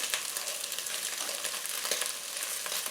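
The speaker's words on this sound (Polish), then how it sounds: "Teraz wrzucam cebulkę." Chopped onion sizzling and frying in hot fat in a WMF Perfect 4.5 L pressure cooker for beef goulash, a steady dense hiss close up with no talk.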